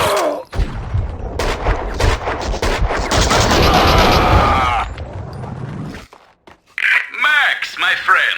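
Gunfire in the Xbox game Max Payne 2: loud, rapid bursts of close shots and impacts for several seconds, then a short lull before a voice speaks briefly near the end.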